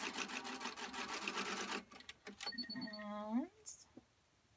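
Sewing machine stitching a fabric car catch-all closed, a fast steady close whirr of needle strokes for about two seconds, then stopping, with faint handling noises and a voice speaking briefly afterward.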